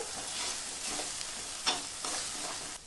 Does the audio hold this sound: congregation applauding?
no